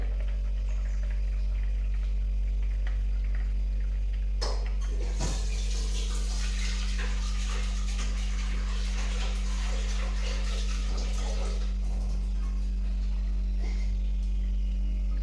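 Water splashes and runs steadily into a metal pressure cooker for several seconds, over a constant low hum, then tapers off.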